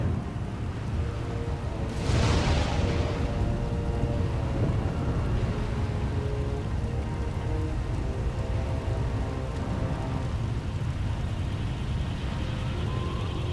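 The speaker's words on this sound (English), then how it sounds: "We can ride out the storm there." Storm rain in the Star Wars: The Old Republic video game, a loud steady downpour with a deep rumble underneath and a sharp crack of thunder early on, continuous and immersive with no speech.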